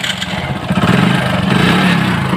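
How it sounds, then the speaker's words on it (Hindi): A motorcycle's electric self-starter pressed while the bike has a starter magnet fault, giving a steady, loud mechanical whirring drone close by with no talking over it. "देखिए इसका सेल्फ प्रेस कर रहे हैं"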